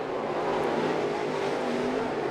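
Crate late model race cars roar around East Bay Raceway Park during a feature race, a steady, loud engine drone with overlapping motors held at high revs, no voices.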